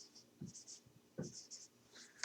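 Chalk or pen scratching out an entropy equation during a chemistry lecture, with short, faint strokes and taps in an irregular rhythm.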